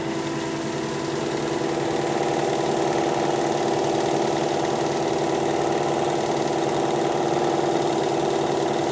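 A wood lathe spins a bowl at about 1200 rpm, giving a steady, continuous motor hum with an even tonal drone and no pauses or talking.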